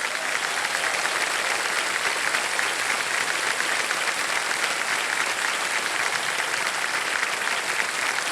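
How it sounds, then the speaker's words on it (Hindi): Steady, dense applause from a large studio audience on the game show Kaun Banega Crorepati rolls on continuously without a break. "बहुत बहुत तालियां बज जाए इनके लिए"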